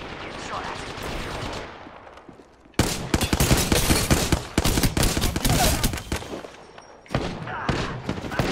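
Video game gunfire rattles in loud, rapid automatic bursts and volleys, close and dense, briefly dropping to quieter shots before erupting again, with voices occasionally heard amid the shooting.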